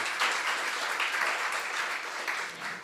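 An audience at a launch event keeps up a sustained round of applause, steady and fairly loud, easing slightly toward the end with no voices audible.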